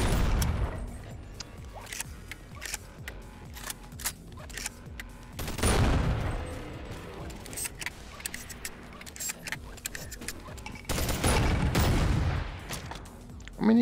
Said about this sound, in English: This is an automatic shotgun.